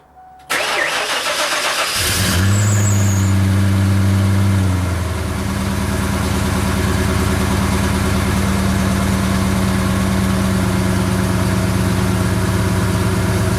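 A 1992 Ford Bronco engine with a newly installed custom fuel tank cranks briefly, catches, and settles into a steady, loud, close idle that runs on alone.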